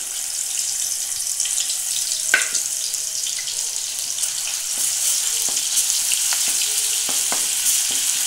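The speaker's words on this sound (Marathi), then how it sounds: "तेल गरम झाल्यास पहिल्यांदा लसूण अद्रकची पेस्ट टाकायची।" Ginger-garlic paste frying in hot oil in a kadhai for a fish curry, a loud, steady close sizzle with scattered small pops and stirring clicks, unbroken by talk.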